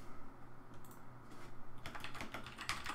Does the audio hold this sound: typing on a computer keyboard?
yes